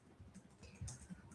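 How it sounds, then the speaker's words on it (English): Light, sparse keystrokes on a computer keyboard tapping quietly for a moment, with no voice over them. "I'm just doing a bit of typing and talking at the same time while I pick the link up"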